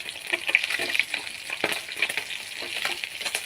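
Fish frying in a pan of hot oil: a continuous close, bright sizzle with small popping spatters, loud and unbroken for a few seconds.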